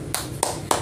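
Children's clap chant tepuk pekerjaan: three sharp hand claps spaced evenly about a third of a second apart, close and crisp over a low steady background.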